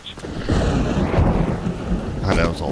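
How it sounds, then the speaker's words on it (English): A loud, rumbling thunder clap rolls through a night rainstorm in a video game, booming continuously over steady rain for a few seconds, close and heavy. "God, that was a loud clap of thunder."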